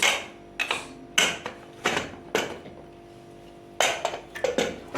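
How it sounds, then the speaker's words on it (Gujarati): A pressure cooker lid is handled and opened after cooking coconut rice, with a series of sharp metallic clicks and clanks in irregular bursts, close and distinct, separated by short quiet gaps. "હવે કુકર ખોલીને આપણે જોઈ લઈએ."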